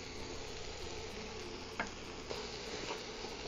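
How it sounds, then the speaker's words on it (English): A roux of oil and flour cooks with string beans in a pan, making a soft, continuous sizzle with a few faint clicks and scrapes from stirring, and no talking. "a little bit of oil and a little bit of flour to create a roux right here"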